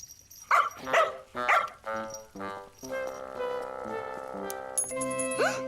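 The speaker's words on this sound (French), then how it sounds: "Il n'y a pas plus gentil que ce chien-là." A cartoon dog barks several times in quick succession, short yapping bursts in a playful rhythm, followed by a longer whining, tonal vocal sound and a high-pitched squeak at the end.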